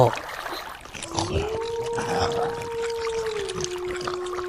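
A cartoon wooden boat poled across a foggy marsh glides with a sustained, slowly bending tone over soft water splashes and trickles, steady and fairly close.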